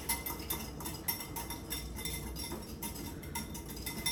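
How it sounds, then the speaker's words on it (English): A whisk clinks rhythmically against a bowl while mixing vinaigrette dressing with mayonnaise, quick repeated metallic taps at a steady pace, fairly faint and without talk. "Now we're just going to whisk this up"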